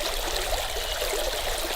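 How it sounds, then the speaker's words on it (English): A swift creek with a strong current rushes through a culvert as a steady, dense roar of flowing water, close and loud, with no talking. "because this creek is very swift. The current's pretty strong."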